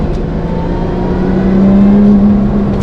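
Lotus Exige V6 engine on track at Charade, a loud, close, steady drone whose pitch rises slightly as revs build, with no talk.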